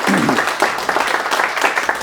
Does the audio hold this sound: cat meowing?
no